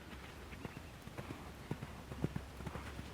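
A horse canters during jumping practice, its hooves drumming in a quick repeated rhythm on soft ground, moderately close, with faint background noise and no clear talking.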